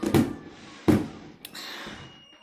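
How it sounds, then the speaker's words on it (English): Fireworks burst outside near an apartment during a Fourth of July night, heard from indoors as two sharp, fairly loud bangs followed by fainter crackles and pops. "You hear little kids screaming and fireworks just blowing up."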